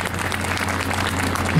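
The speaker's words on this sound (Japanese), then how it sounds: "監督どうぞ大きな拍手をお願いします。" Sustained applause from a talk-show audience at a Subaru BRZ GT300 racing event, loud and continuous throughout with a steady crowd wash and no clear speech.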